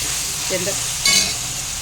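Tomatoes sizzle steadily in a hot pan while being stirred, with a brief scrape and clatter from the spoon up close.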